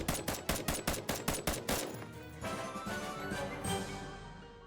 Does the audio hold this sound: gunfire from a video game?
yes